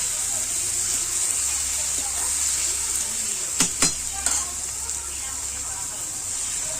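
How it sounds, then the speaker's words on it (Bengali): Tomatoes frying in a pan, a steady bright sizzle throughout with a few sharp clinks of stirring near the middle, close and continuous. "এবার আমার টমেটোটাও ভালো করে ভাজা হয়ে গেছে। আর একটু ভেজে নেওয়া হবে।"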